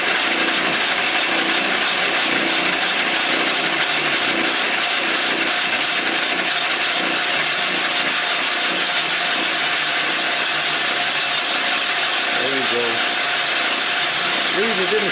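A boring bar cuts into an old John Deere two-cylinder engine block, a loud, continuous grinding machine noise with a fast repetitive rasp early on, its tone shifting as the cut goes on.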